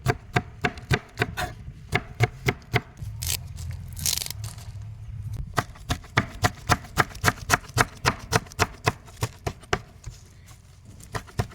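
Onions for bread bajji chopped finely with a knife on a board, a fast, steady run of close, sharp knocks, briefly broken by a scraping pause before the rhythm resumes.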